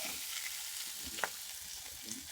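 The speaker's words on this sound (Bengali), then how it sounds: "এই দেখো জলখাবারে আলু ডিম ভাজা করছি" Potatoes and eggs frying in a pan for breakfast give a faint, continuous sizzle with a couple of soft stirring knocks, quiet and close.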